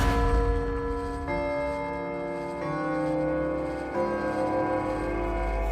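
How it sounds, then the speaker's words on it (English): A clock ticks a few times with steady sustained bell-like tones ringing under it, moderately quiet and without any voices. "We can hear it ticking a few times"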